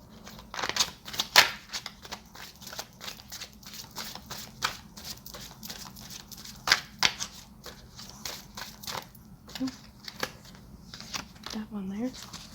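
Tarot cards are shuffled by hand in steady, crisp riffling and tapping bursts, close and fairly quiet, continuing for several seconds with a few sharper snaps.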